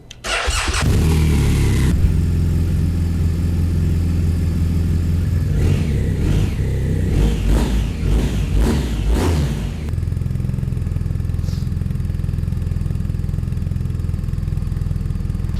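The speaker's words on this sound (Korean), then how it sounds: "그러면 시동 확인해 보도록 할게요" A BMW R1250RT motorcycle with an Akrapovic muffler starts up and settles into a loud, close, steady idle, with a few sharp throttle blips in the middle before it drops back to idle.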